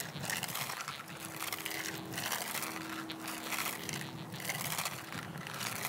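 An XP ORX metal detector's threshold tone bubbles away steadily while sweeping outdoors, a faint warbling hum with a continuous rustling, crunchy texture from the coil moving over ground.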